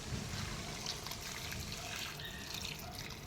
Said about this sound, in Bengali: আর এই যাচ্ছে আমাদের গরম জল